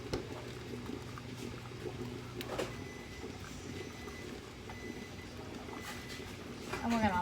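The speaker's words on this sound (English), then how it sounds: "got about 2 inches of simmering water here" About two inches of water simmers in a pressure canner, a steady low bubbling hiss that runs throughout with faint kitchen clinks.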